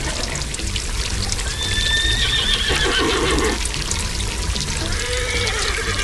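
A cartoon horse whinnies beside a barn in a farm animation, a thin rising neigh partly buried under a dense, loud bed of music and effects.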